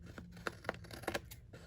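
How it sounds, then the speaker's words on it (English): Scissors snipping through cardstock while a Halloween card is made, a few faint, crisp, close cuts in an irregular rhythm against a quiet room. "Just grab your scissors"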